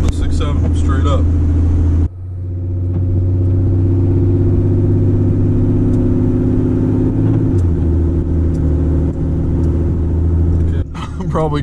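A Cummins 6.7 diesel truck engine runs with a deep, steady low rumble from inside the cab, dipping briefly and shifting pitch near the end, while someone talks over it.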